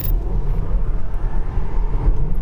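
A Tesla car accelerating hard in a race, a loud, steady low rumble of road and motion noise that pulses slightly as it pulls away.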